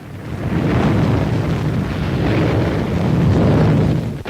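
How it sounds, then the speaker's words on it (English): A nuclear test blast from archival footage, a sustained heavy low roar of explosive rumble lasting throughout, loud and dense without distinct separate bangs. "These dramatic pictures, recorded by automatic cameras, reveal the blast effect on the town installations."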